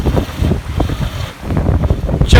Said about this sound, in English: We got 14 knots wind, sometimes it goes up to 18 knots.